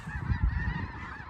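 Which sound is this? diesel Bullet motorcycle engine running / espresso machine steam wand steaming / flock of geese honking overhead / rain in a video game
flock of geese honking overhead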